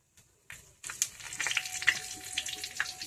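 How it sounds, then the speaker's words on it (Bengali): Five-spice seeds and a bay leaf sizzle and crackle sharply in hot oil for a Bengali pachan, with a brief quiet start before a steady frying hiss that carries scattered pops and spits. "5 ফোড়নটা দেব, তেজপাতাটা, ফাটিয়ে দেবো"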